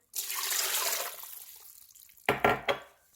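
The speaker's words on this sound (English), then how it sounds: "you're going to add 2 cups of cold water" Cold water pours steadily over pork ribs for about a second, tapers off, then a few short splashing bursts follow.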